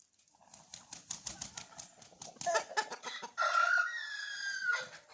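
A rooster on a farm crows in a strained, odd-sounding voice, a long wavering call near the end that follows a run of rapid clucks and squawks from nearby fowl.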